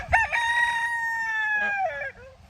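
Chickens crow and cluck while a brooder is cleaned out to make room for new quail, one rooster-like call held loud and close for about two seconds before trailing off.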